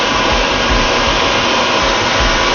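A cutting wheel grinding a crystal baptismal font, a loud, steady, continuous roaring hiss with constant intensity throughout.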